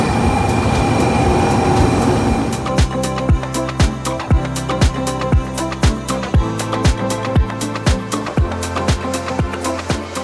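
A Shinkansen bullet train in Japan rumbles with a steady low drone, then rhythmic clacks of wheels over rail joints repeat quickly as it rolls along nearby.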